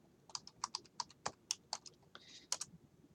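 Close, quiet keystrokes on a computer keyboard come as a short run of separate clicks in an uneven typing rhythm, with no talk over them.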